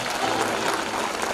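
A church congregation at a prayer service applauds steadily, a dense, continuous wash of many hands clapping together throughout.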